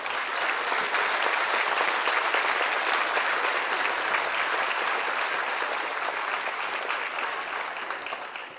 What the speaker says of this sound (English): Let's give our Corry senior wrestlers and cheerleaders a very big round of applause.